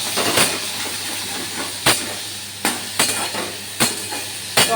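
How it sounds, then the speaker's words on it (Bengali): Tomato and starfruit fry in a pan with tempering spices for a chutney, giving a steady loud sizzle broken by several sharp metallic clinks from the spoon or spatula against the pan. "টমেটো কামরাঙা সুন্দর করে ফোড়নের সঙ্গে ভাজা হচ্ছে"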